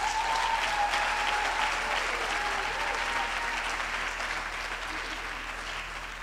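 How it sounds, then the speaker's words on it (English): Audience applause fills a graduation ceremony hall, a steady, dense clapping that carries on throughout, slowly easing off toward the end, with a faint voice briefly audible near the start. "big round of applause."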